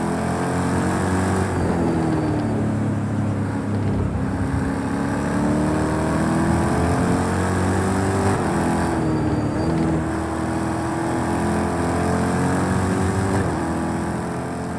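A Corvette C7.R race car engine drones loudly in Project CARS 2 at Laguna Seca, a steady high-revving roar with pitch rising and dipping through gear changes and corners, continuous throughout.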